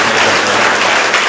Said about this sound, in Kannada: ನಮ್ಮ ಎಲ್ಲರೂ ಕೂಡ ಜೋರಾದ ಚಪ್ಪಾಳೆ ಮೂಲಕ